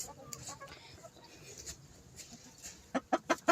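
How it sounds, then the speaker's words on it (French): Hens in a small backyard poultry coop sit quietly for a while, then give a quick run of four or five sharp clucks close by near the end. "Bon, voilà, petite vidéo sur les poules"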